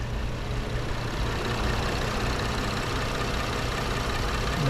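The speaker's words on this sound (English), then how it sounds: "that EcoBoost engine is sounding smooth" A 2017 Ford Explorer Sport 4x4 EcoBoost engine idles with a steady, smooth low hum that holds evenly for several seconds, close by and with no talking.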